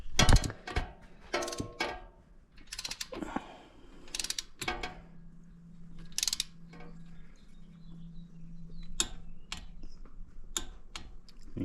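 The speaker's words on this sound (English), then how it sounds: "You can see that click right there. That's indicating we've hit 22, so that's the proper way to torque it." A torque wrench clicks as it reaches its set torque while tightening a bolt on a Honda FourTrax Foreman Rubicon 4x4 ATV; sharp mechanical clicks and ratcheting occur intermittently over a low steady hum, close by.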